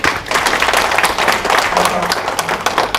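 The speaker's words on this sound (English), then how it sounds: "Clap hands for yourself." Conference attendees at a women's event clap for themselves, a loud, close burst of dense hand claps with sharp individual slaps standing out, continuing throughout with possible voices mixed in.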